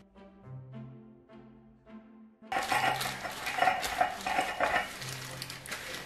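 Fingers wrapped in wax paper rub grease around metal muffin pans for buttermilk cornbread, giving a scraping, squeaking friction that starts abruptly after quiet music and continues in uneven strokes.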